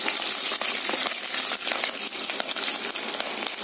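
Dry red and green chillies crackle and sizzle in hot oil, a dense, steady spitting hiss with sharp pops close by, with no talk.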